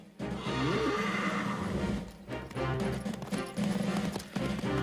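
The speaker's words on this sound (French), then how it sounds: "Retiens mon cheval, c'est un fier destrier." A proud warhorse neighs loudly up close, then its hooves clop in an uneven rhythm amid rustling movement.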